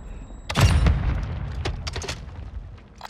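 A Semtex grenade detonates in Call of Duty: Modern Warfare II, a single loud, deep boom with a rumbling tail, followed by scattered fainter gunfire pops and crackles.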